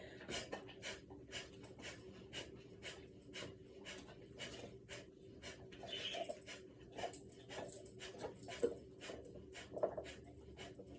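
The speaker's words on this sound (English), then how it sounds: "And once more, coming into breath of fire." Rapid, forceful rhythmic breaths of yoga breath of fire, short bursts in quick succession, quiet and close with no speech.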